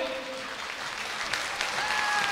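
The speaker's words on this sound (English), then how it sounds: "A standing ovation and applause here from the capacity crowd in Tilburg for the Blue Devils from Weiden." A capacity crowd at an ice hockey playoff game in Tilburg gives a standing ovation, a dense, continuous wash of clapping that stays loud and even from start to finish.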